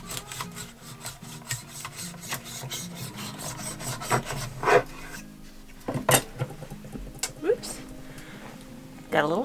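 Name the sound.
knife slicing fresh-ground-flour sandwich bread in slicing guide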